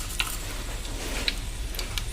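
Bay leaves sizzling in a couple of large ladlefuls of hot oil, a steady close crackling hiss with a few faint ticks over about two seconds.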